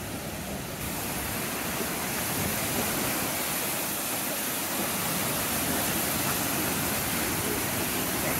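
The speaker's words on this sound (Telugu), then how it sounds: "కొంచెం పాండ్ లాగుండి కింద పడుతుంది అనమాట వాటర్" Devil's Bridge waterfall pouring into a pond below, a steady, dense rush of falling water heard close and loud throughout with no break.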